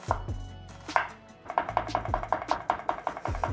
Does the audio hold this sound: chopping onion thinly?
yes